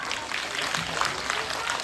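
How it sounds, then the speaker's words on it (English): A school ceremony audience at a Diwali and sports week prize distribution claps steadily, a dense, moderately distant patter of many hands with a murmur of voices mixed in. "Let's give them a big round of applause. Everyone, clap louder."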